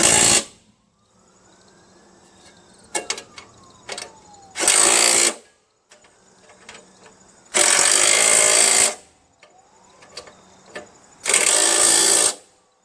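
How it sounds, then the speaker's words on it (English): A power tool drives half-inch nuts onto a push lawnmower in four loud, harsh bursts of about a second each. Quieter clanks and handling noises fill the gaps between them. "And then they're 1/2-inch nuts and you just drive them in."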